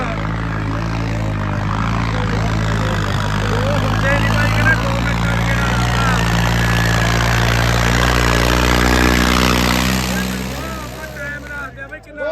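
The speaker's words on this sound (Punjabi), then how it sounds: "ਟਰੈਕਟਰ ਦੇਖ ਸਕਦੇ ਹੋ" A Swaraj 5310 tractor engine drones close by at a tractor competition, a deep, steady throb that swells slightly before easing off near the end, with people talking over it.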